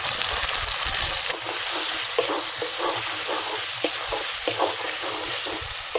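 Chopped chillies fry in a pan of chicken skin curry, a dense, loud, continuous sizzle with a burst of heavier spitting at first that settles into steady frying under occasional stirring scrapes.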